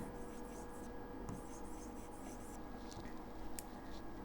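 A pen writes on paper in soft, continuous scratching strokes, faint and close, under a steady background hiss during a maths lesson on card probability.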